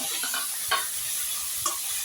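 Tomato fries in a pan for Tamil fish curry (fish kolambu), a soft steady sizzle with a few brief stirring scrapes.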